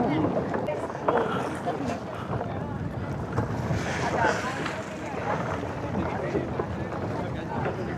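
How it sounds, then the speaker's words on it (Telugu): Sea waves rolling in at Bekal Beach in the evening, a steady rushing wash mixed with wind buffeting the microphone, with no speech. "నెట్టుతుంది తోసేస్తుంది అట్లా లోపలికి సముద్రం వేవ్స్"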